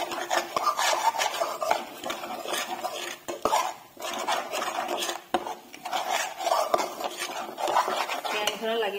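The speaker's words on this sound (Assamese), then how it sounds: "এইখিনি এতিয়া ধুনীয়াকৈ ভাজি ল'ম মচলা গোন্ধটো যাওক" Spice paste with salt and turmeric frying in a pan, a continuous soft sizzle broken by frequent scraping and clinking of a spatula against the pan, close up, with a little faint talk in places.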